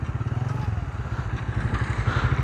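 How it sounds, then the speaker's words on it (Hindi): A tractor reverses at a road construction site to hitch onto a mixer machine, its diesel engine chugging in a steady, close, pulsing rumble for the whole stretch with light clatter on top. "चेक करें जी ये ट्रैक्टर यहाँ पर आ गया और बाई रिवर्स करके जी बिल्कुल मिक्सर मशीन के साथ लगाएंगे जी"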